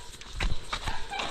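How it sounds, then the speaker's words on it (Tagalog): A young foal in training clip-clops along a road, a few distinct close hoof strikes in uneven rhythm over faint background noise. "Dahil ito po ay bisiro"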